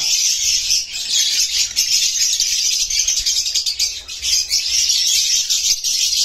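Continuous bright chirping and twittering from several small caged birds, loud and close, with no talk.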